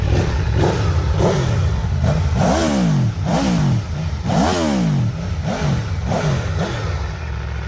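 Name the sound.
Aprilia Tuono V4 Factory 2021 motorcycle engine revving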